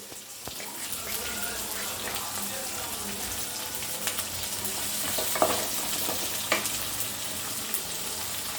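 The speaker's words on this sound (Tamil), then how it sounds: "பச்சை மிளகா, அப்புறம் வதக்கணும்." Green chillies sautéing in a pan for tomato chutney, a soft steady sizzle with faint stirring clicks and scrapes throughout.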